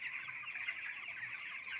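A dense crowd of two-week-old chickens in a poultry farm shed cluck and cheep continuously, a steady high-pitched chorus heard at a moderate, even level with no talk.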